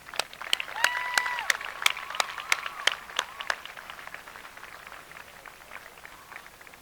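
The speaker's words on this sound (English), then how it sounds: "Would you please join me in a round of applause?" An audience applauds at a high school graduation ceremony, with sharp claps that thin out and fade over several seconds.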